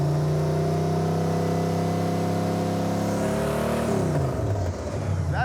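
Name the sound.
Camaro engine running while being timed, new HEI ignition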